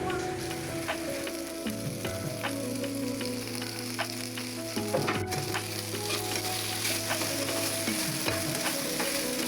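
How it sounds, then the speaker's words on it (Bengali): Okra frying in oil in a pan while being stirred, a steady sizzle with repeated scraping stir strokes throughout, close and fairly loud with no voices. "তেল দিয়ে আরও কতক্ষণ নেড়ে চেড়ে ভেজে নেব"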